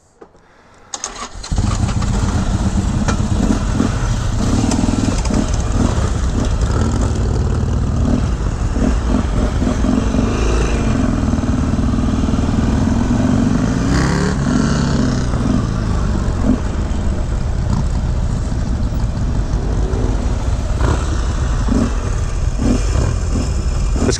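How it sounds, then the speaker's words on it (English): A motorcycle engine fires up and runs loud and steady close by for over twenty seconds, a continuous rough drone with slight surges, on a ride with a bike that has a leaking fork seal; no talking. "I can see this bike and hear it going by"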